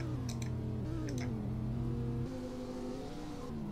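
A Lamborghini Urus in a Roblox driving game gives a steady engine drone whose pitch climbs and shifts as it accelerates, with a few faint clicks early on.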